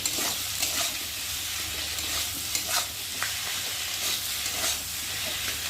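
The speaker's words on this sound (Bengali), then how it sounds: "দিয়ে এটা মশলাটা ভালো করে কষিয়ে নেব" Spice masala of chilli powder, turmeric and salt is stir-fried in a pan, a loud continuous sizzle broken by repeated scraping strokes of a spatula, close and without talk.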